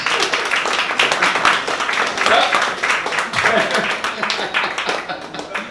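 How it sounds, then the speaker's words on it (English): Audience applause after a poet's reading, brisk steady clapping from a modest crowd that carries throughout and thins slightly toward the end, with a few voices underneath. "Keep that applause going for another 30 seconds."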